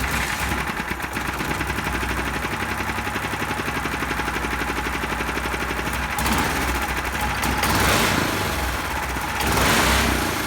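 Turbocharged 420cc go-kart engine firing up, a rapid, loud chugging putter that runs steadily, then rises into rougher revving bursts with some clatter toward the end.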